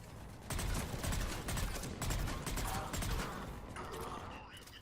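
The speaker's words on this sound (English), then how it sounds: "Cannons initializing." Sci-fi cannons powering up in a video game battle against the Reapers: dense, sustained mechanical rumble with rapid crackling bursts and whirring, loud and continuous throughout.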